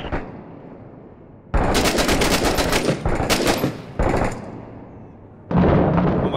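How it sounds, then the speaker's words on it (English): Rapid automatic gunfire in the video game Six Days in Fallujah, several loud bursts of shots with short gaps between them, close and clear, with no speech. "Or just keep shooting, that works."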